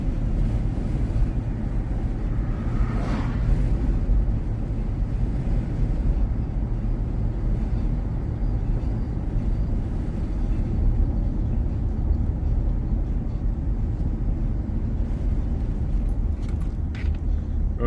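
A car drives along a back road through Three Rivers, Michigan, in the flow of traffic, giving a steady low engine and tyre rumble with wind buffeting throughout and no talk.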